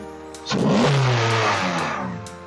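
A 2016-2021 Honda Civic 2.0L engine fitted with a Weapon-R intake, idling and then revving up once with a loud rising growl that holds steady before easing back slightly.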